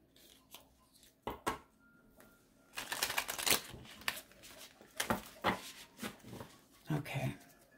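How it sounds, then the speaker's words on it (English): Tarot cards shuffled by hand in a series of quick riffling and slapping bursts, close to the microphone, with brief pauses between shuffles and little else around them. "All right, one more shuffle."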